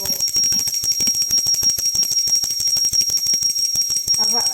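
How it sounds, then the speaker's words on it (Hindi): A small hand bell rings steadily during a home puja while bhog is offered, its quick, even strokes giving a bright sustained tone, with someone speaking over it. "तो अब हम भोग घंटी बजाकर लगा लेंगे भोग।"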